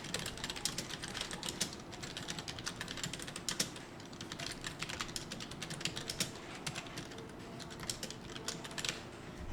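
Steady, rapid typing on a computer keyboard while entering text in a Korean word processor, with dense, continuous key clicks held at a moderate level and no voices.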